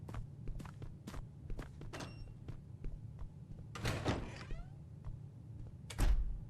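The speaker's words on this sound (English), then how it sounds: "I heard the door." A door opens in a quiet horror game, with a sliding scrape and thunk around four seconds, surrounded by soft scattered footsteps and clicks and a heavier thud near the end.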